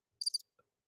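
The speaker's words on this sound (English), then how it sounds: "do you have the crickets on there? Yeah, I have the crickets." A cricket chirping sound effect gives one quick, high trill of a few rapid pulses and then a faint tick, set against total silence.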